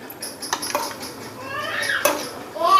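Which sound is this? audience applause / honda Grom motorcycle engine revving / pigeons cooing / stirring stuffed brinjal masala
stirring stuffed brinjal masala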